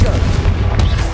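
A Confringo blasting spell explodes in the Hogwarts Legacy video game, a loud booming burst with a dense, rumbling low-end wash.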